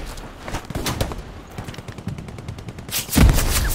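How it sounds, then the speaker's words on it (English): Gunfire in the World War II shooter game Hell Let Loose, set at Stalingrad, with a rapid run of sharp repeated shots followed by a louder close burst near the end. "I'm getting shot at."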